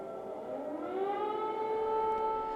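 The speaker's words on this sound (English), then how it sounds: "air raid sirens echoed across the Ukrainian capital before dawn" Air raid sirens wail across Kyiv before dawn during a Russian drone attack, a loud sustained civil defense tone rising in pitch and then holding steady, with no voices.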